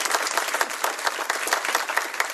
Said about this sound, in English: You already did it, but help me give them a round of applause.